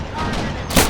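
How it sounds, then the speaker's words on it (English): Toy-battle machine gun fire from plastic army men aimed at infantry in bushes, a dense crackling burst that swells near the end, with a voice talking throughout. "the best machine gun here is firing infantry in these bushes"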